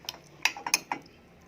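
Spoon clinking against a bowl while marinated chicken is mixed with tomato ketchup, four or five short, sharp, close taps in quick succession, then quiet.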